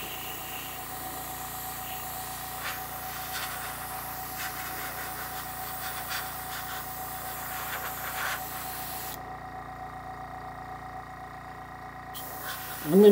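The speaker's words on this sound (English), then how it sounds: "I'm going to continue spraying this" A steady, soft hiss of an airbrush spraying a natural metal finish base coat on a 1/32 Trumpeter P-38 model runs throughout, with a faint mechanical hum beneath, cutting out briefly near the end.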